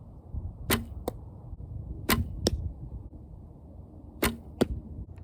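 Archery practice: three arrows are loosed, each heard as a sharp snap of release followed a fraction of a second later by a crisp thud into the target, evenly spaced over quiet outdoor background.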